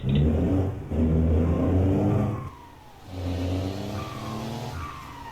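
An Isuzu truck engine in Euro Truck Simulator 2 pulls hard through its gears, loud and close, with revs climbing, dropping at each shift, then rising again over steady whirring.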